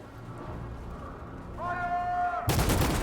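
Gunshots in Detroit: Become Human, a loud sharp burst of fire hitting near the end after a rising tonal game sound, with background game ambience before it.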